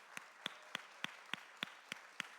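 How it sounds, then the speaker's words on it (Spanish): A church congregation claps in unison to a steady, brisk rhythm, with sharp evenly spaced claps over a faint background hum. "Aplaudamos a Cristo."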